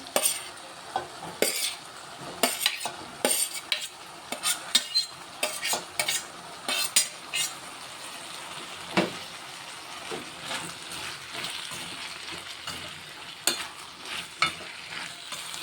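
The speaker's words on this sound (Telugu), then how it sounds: "ఇప్పుడు ఇందులోనైతే కట్ చేసుకున్న టమాటాలు వేసేస్తున్నా" Chopped tomatoes go into ridge gourd pieces frying in a pan for a spicy chutney, followed by repeated clattering scrapes and knocks of a spoon against the pan over a steady low sizzle, close up with no speech.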